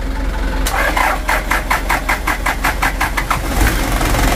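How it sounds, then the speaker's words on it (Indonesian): A Toyota Dyna diesel truck with a faulty injection pump cranks for a long time: a steady run of rhythmic starter pulses lasts about three seconds before the engine catches and runs on at a rough idle. "untuk starternya itu panjang, hidupnya serasa agak sulit"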